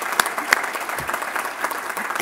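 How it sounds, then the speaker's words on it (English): Audience clapping for former Irish president Mary Robinson, a broad steady patter of many hands running throughout with a few sharper claps standing out, fairly distant and moderate in level. "Yeah, we can clap now."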